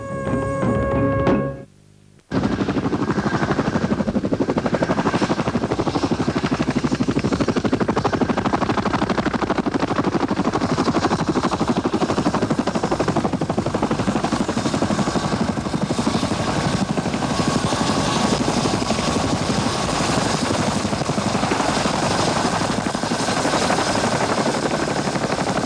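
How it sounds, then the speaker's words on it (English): A massive Royal Australian Air Force Chinook helicopter roars close and loud in flight, a dense continuous rotor thrum after a brief dip near the start. "the Royal Australian Air Force and their massive Chinook helicopter"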